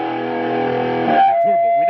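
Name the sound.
electric guitar through preamp with distortion, turbo mode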